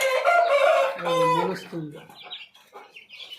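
Laying hens cluck and a rooster crows close by, loud harmonic calls in quick bursts that fade into softer scattered clucks, with a voice faintly underneath.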